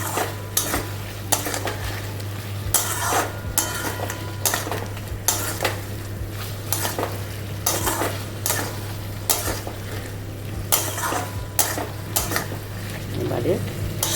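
A spatula stirs and scrapes chicken sautéing with spices in a sizzling pan for a Bengali mango chicken. Regular scraping strokes come about once a second over a steady sizzle and a low hum.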